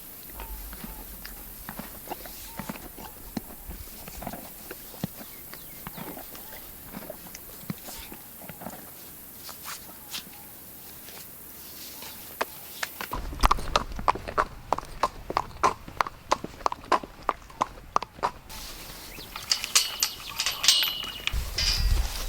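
Horse walking at an easy pace during a ride, hooves clip-clopping in a steady uneven rhythm that grows louder and sharper toward the end, with outdoor background noise.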